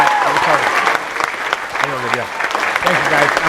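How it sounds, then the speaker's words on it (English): Continuous crowd applause for Chad Hymas at a summer youth retreat, a thick wash of many hands clapping while a voice speaks over it at close range. "Let's give Chad Hymas a big round of applause."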